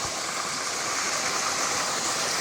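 A small waterfall, about two metres high, on the Acısu stream pours steadily, a close, even rushing hiss of falling water with no voices, unbroken for the whole stretch.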